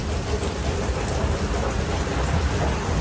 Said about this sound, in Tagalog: Nighttime raining, daytime raining. Then now, it's 2 p.m. already, still raining.